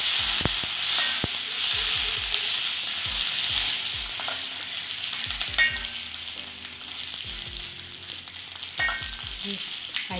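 Rice roasting in a hot pan with chili and curry leaves, giving a continuous sizzle with repeated scraping strokes of a stirring spoon throughout, close and fairly loud, with no talking.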